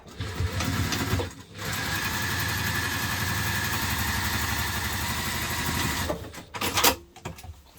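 A sewing machine stitches a seam closed on a hipster bag, running in one steady, loud mechanical burst of several seconds, with brief pauses at the start and end.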